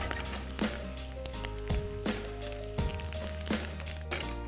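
Curry leaves sizzling in hot ghee with ginger and cashews, a close steady fry with sharp crackling bursts every second or so, no voices.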